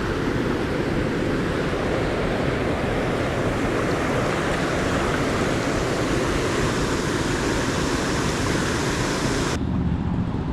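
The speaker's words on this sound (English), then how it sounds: "Really nice waterfall setup, really nice flow." Waterfall on a Scottish Highlands route near Fort William and Loch Ness, a loud, steady broadband rush of flowing water with no voices, cutting off abruptly at the end.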